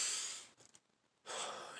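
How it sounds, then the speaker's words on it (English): A single slow, soft breath drawn in and released, close and quiet, with a brief pause of near silence in the middle and no talking. "Maybe something more realistic would be like a conscious breath."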